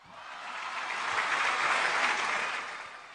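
A comedy night crowd in San Pablo applauds a contestant, with dense, close clapping that swells to a peak midway and then fades, and no talk over it.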